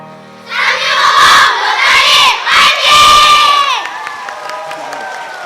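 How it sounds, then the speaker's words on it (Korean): A Rotary district convention crowd claps and cheers loudly, with shouts and whoops swelling over sustained applause before fading to a softer murmur. "큰 박수로 채택해 주시면 고맙겠습니다."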